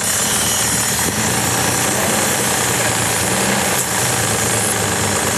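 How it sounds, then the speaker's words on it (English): A Mazda 626 engine idles with an exhaust leak, a loud, harsh, steady rattling chatter with rough low pulsing that goes on unbroken from start to end. "I think you got exhaust leak"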